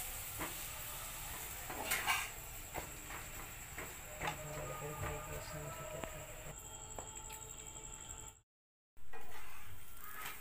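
A paratha frying in hot oil while egg rolls are being made gives a steady, soft sizzle and hiss with faint clinks, ending in a brief silence before the sizzle returns.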